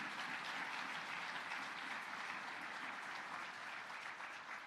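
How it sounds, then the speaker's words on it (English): Faint, distant audience clapping at a DNC winter meeting speech, a soft, even wash of applause continuing throughout with no talking over it. "See that little tyke up there clapping?"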